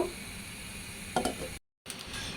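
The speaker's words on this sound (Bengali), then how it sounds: "আলতোভাবে একটু নাড়াচাড়া করে দিচ্ছি" Silver carp curry stirred gently in a pan, a soft steady sizzle with a few scraping stir strokes, close and quiet, interrupted by a brief gap.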